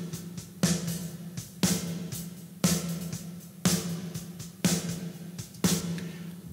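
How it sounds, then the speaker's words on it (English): An EMT-140 plate reverb impulse response from Nevo Studios is played on a repeating sharp percussive hit, six strikes about a second apart, each trailing off in a soft, roomy metallic wash at low volume. "The EMT-140 from them sounds like this."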